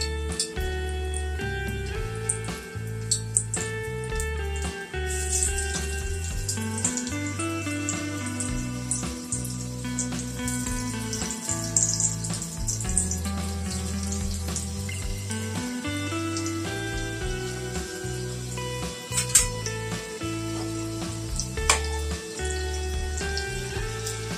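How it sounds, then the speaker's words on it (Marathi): Pieces of alu vadi, colocasia leaf rolls, fry in hot oil in a kadhai, giving a continuous close crackle and sizzle with scattered sharp pops throughout, no voices over it. "तेल गरम झालेलं आहे। तर आता ह्यामध्ये मी ह्या वड्या सोडते।"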